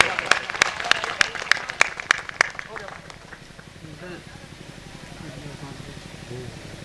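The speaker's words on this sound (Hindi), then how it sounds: "जोरदार ताली बजा करके प्रधान जी का स्वागत करिए।" A crowd at a political rally claps in a brief burst of loud, rhythmic applause, then the clapping fades into general crowd murmur while someone talks.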